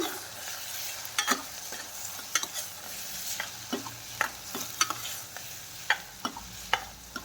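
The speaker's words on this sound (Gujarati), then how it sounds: "થોડી વાર એક મિનિટ માટે આવી રીતે આમાંને સાતડી લેશું વચ્ચે વચ્ચે આવી રીતે આમ ચમચો હલાવવાનો છે તમારે" Chopped ridge gourd sautéed in a pan over low gas, with a spoon scraping and stirring in irregular close clinks and scrapes over a soft, faint sizzle.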